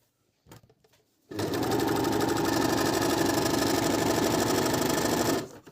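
Merrylock 3000CL overlocker stitching a four-thread seam, a loud steady mechanical whirring run of about four seconds that starts abruptly after brief handling noises and then stops.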